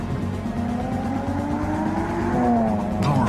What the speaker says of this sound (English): Introducing the new BMW 3 Series, our most advanced 3 yet.